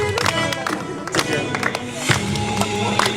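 A group at an outdoor welcome gathering in a field claps, a brief burst of close applause with some voices mixed in.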